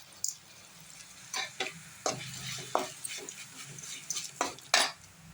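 Onion and tomato with rock salt sauté in a pan while a spoon stirs, scraping and clinking against the metal in irregular bursts over a soft background sizzle, close and unvoiced.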